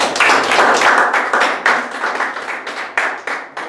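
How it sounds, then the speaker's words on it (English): A small audience at a Toastmasters club meeting claps loudly and close by, a dense burst of hand claps that gradually thins into separate, slowing claps toward the close. "She too deserve a big round of applause."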